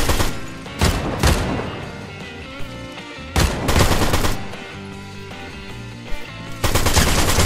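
Gunfire in the Fortnite video game: loud, close bursts of automatic fire and single shots erupt in several separate volleys, with steady game sounds filling the gaps between them.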